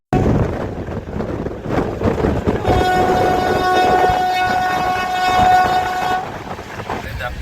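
Indian passenger train on the Tirupati to Rameshwaram route rumbling along the tracks, a long steady horn sounding for several seconds over loud rolling carriage noise, with voices faintly underneath.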